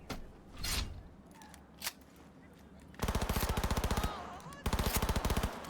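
Rapid automatic gunfire in the Cyberpunk 2077 video game, two long loud bursts of evenly spaced shots after a few scattered sounds and brief muffled voices.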